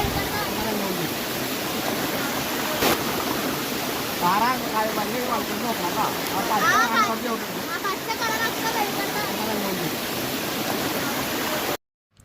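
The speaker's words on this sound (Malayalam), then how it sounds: "കാടിന് നടുവിൽ കുത്തനെയുള്ള തട്ടുകളായ പാറക്കെട്ടുകളും ശക്തിയായ നീരൊഴുക്കും വെള്ളച്ചാട്ടവും" A waterfall with strong flow pours down stepped rock ledges in the middle of a forest, making a steady, dense rushing roar throughout, while a voice speaks over it.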